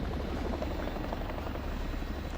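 Chinook helicopter on the ground with its rotors running as a medical team heads toward it, a steady broadband thrum at moderate distance with no voices.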